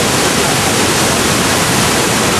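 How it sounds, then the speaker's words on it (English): Niagara Falls roars as a loud, dense, unbroken rush of water, close and steady. "Niagara Falls"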